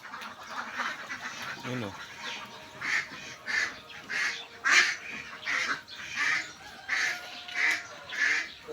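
Domestic ducks raised for salted eggs quack close by in a regular run of loud, evenly spaced calls, with a brief spoken word near the start.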